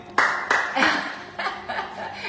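A small kitchen audience claps and laughs in a few short bursts for choux pastry puffing up in the oven while profiteroles are made, with voices mixed in.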